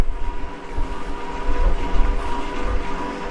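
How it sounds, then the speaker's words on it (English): A Wattbike's pedals turn steadily beside an electric fan running on its second speed setting, giving a loud, continuous whirring rumble with a slight mechanical rhythm underneath and no speech. "that sound you can hear there is the sound of the watt bike pedals turning and the sound of the fan itself"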